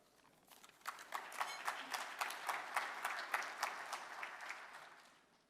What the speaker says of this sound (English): How about another round of applause for Troutman Pepper and the PACT team?